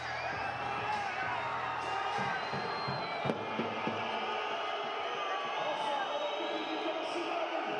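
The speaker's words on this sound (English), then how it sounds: "Crowd not happy." A basketball arena crowd at a SIG Strasbourg v Lietkabelis Champions League game voices its displeasure in a dense, steady roar of shouts and whistles that fills the whole stretch, mixed with voices.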